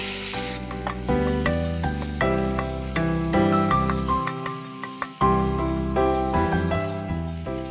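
Stuffed pointed gourd frying in hot oil, a loud close sizzle that swells and fades in repeated bursts as the pieces are stirred and turned, with no voices.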